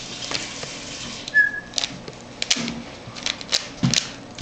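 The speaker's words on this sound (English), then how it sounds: "the whistling that you hear in the background" A boy whistles in the background of a room while a Rubik's Cube is being solved. A brief thin whistle sounds amid quiet clicks and taps.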